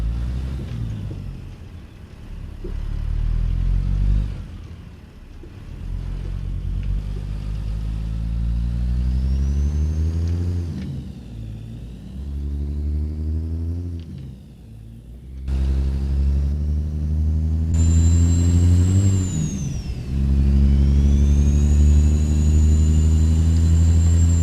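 A truck engine in a trucking video game with a log trailer drones loudly and continuously, its pitch rising and falling as it shifts through gears, with a high whine joining later.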